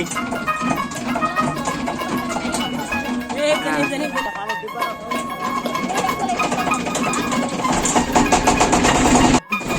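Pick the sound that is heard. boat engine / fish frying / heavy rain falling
boat engine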